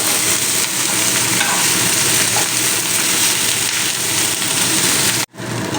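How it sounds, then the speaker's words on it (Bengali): Cut eggplant and small fish sauté together in a pan, a loud dense sizzle with stirring scrapes running continuously until it cuts off abruptly near the end. "এবারে দিয়ে দেবো আমি কেটে রাখা বেগুনগুলো দিয়ে আমি একই সঙ্গে কষিয়ে নেব"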